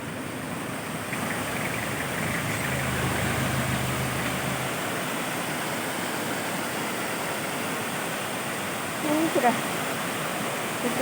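Flowing water from a stream or waterfall in the countryside, a broad continuous rushing that fills the whole stretch, with a low engine-like hum partway through and brief faint sounds near the end.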